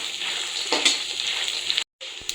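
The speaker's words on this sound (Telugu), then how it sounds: "చూడండి మన వెల్లుల్లి పప్పులు అన్నీ ఫ్రై అయిపోయింది" Coarsely crushed garlic cloves fry in hot oil for crispy garlic poha, making a bright, steady crackling sizzle nearby that cuts out for a moment before resuming.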